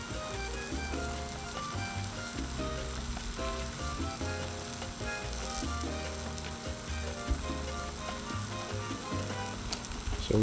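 Steak sizzles on a Blackstone 22-inch griddle, a steady, dense crackle and hiss that keeps an even level for the whole stretch with only a faint clink near the end, no talk over it.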